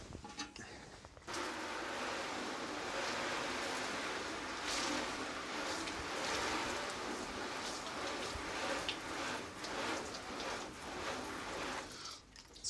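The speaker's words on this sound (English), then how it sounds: "And we'll rinse that off." Water runs steadily and fairly close over a car wash pad being rinsed clean after a detailing wax test, a continuous splashing wash that starts after a brief quiet moment and ends just before the close.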